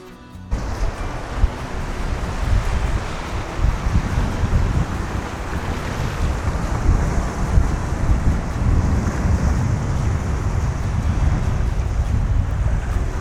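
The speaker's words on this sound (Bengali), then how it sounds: "এখানে একটু পরে পরে হচ্ছে ঢেউ চলে আসতেছে এই জায়গাটার মধ্যে" Sea waves rolling in at the rocky shore of St. Julian's, Malta, a loud continuous wash of surf with swelling surges and heavy wind buffeting the microphone, no talk.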